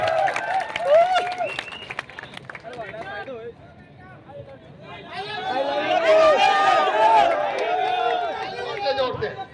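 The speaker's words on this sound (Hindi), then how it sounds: "जोरदार तालियों के साथ संदीप चौधरी साहब, संदीप चौधरी साहब।" A crowd at the RWA Jaipur meet-up cheers and shouts with some clapping mixed in. Many voices call out loudly, dip briefly, then swell to a louder roar in the second half.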